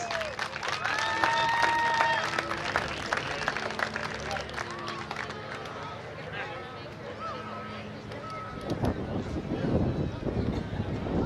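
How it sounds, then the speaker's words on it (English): Spectators at county fair oval races cheer and clap after drivers climb out of a wreck, a sustained burst of applause and crowd noise with wind rumble, with voices mixed in. "Let's give them a round of applause."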